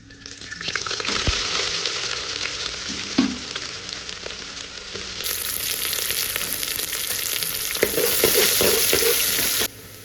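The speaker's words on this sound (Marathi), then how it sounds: "आता टाकूया खडे मसाले. खडे मसाले परतले की टाकायचा आहे कांदा." Whole spices fry in hot oil for a paneer peas biryani made in a pressure cooker, giving a steady close crackling sizzle that grows brighter and denser partway through, with occasional stirring clinks and no speech.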